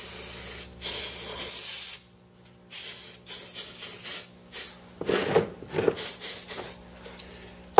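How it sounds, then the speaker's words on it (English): Aerosol mold release sprays onto a casting mold in bursts: a long hiss, then a series of shorter sharp spurts with brief silent gaps between. "I'm going to coat the mold with a mold release."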